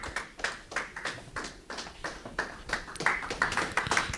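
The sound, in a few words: audience applauding in church service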